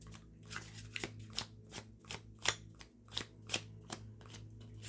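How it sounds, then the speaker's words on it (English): A deck of cards being shuffled close by, about a dozen crisp riffling bursts in a steady rhythm over a low hum, with no talk. "cards are noisy tonight"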